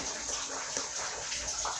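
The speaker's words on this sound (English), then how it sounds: "I added a little bit of water for it to cook the fish and the pomo" Water is poured steadily into a cooking pot of seasoned fish and pomo, a continuous close splashing gush lasting about two seconds with no voices.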